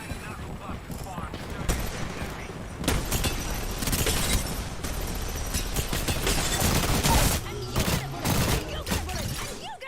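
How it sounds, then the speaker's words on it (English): Knuckle cluster ability firing in a shooter video game, a dense burst of rapid cracking shots and shattering impacts that swells and holds loud for several seconds amid ongoing gunfire. "Knuckle cluster fire."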